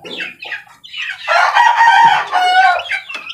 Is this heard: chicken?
yes